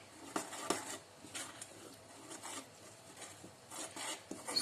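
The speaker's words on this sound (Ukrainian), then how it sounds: "Замішую тісто." Soft, irregular rubbing and rasping of hands kneading wheat bread dough made with water and oil, with occasional faint scrapes against a bowl, quiet and close.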